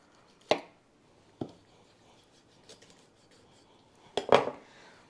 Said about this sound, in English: you're going to find the ball joint and you're going to run your knife in there cautiously